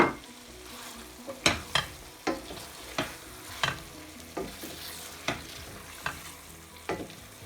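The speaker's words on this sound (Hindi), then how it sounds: "अब भूनते वक्त मैं इसके अंदर थोड़ी सी लैम की जो यखनी है वो मैं इसके अंदर ऐड करती जाऊंगी और इसको भूनूंगी" Lamb curry masala sautéing in a pan as lamb stock is added, with a steady sizzle broken by about a dozen sharp spoon scrapes and stirs at uneven intervals, close and clear, no voices.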